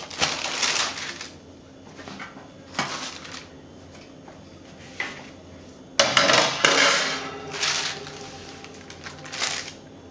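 A knife cuts through baked almond and chocolate fekkas biscuits while they are still warm, giving several separate crunchy slicing strokes spread out with pauses, close and fairly crisp.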